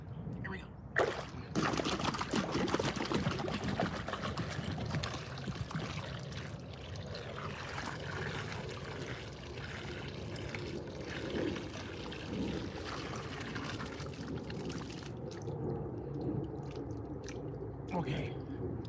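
Water is poured out of a musical instrument in a long, uneven gurgling trickle with splashes and dribbles. It goes on for most of twenty seconds, and a voice speaks briefly over it.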